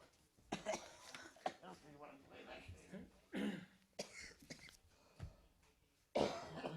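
Several coughs and throat-clearing bursts come in irregular bursts, close and fairly loud, with quiet murmuring between them.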